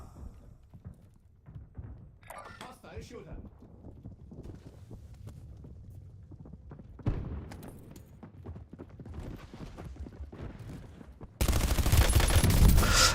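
Black Ops 7 gunfight with bursts of rapid shots and scattered single cracks among rumbling background noise, building to a dense, loud stretch of sustained firing near the end.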